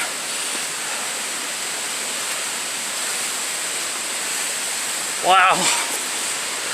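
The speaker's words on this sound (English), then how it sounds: "with the spillway going over the top of it and back into the river" Water pours over the spillway of 1800s water power plant ruins near Independence, Virginia, a steady, moderately loud rushing roar heard continuously, with a brief spoken exclamation near the end.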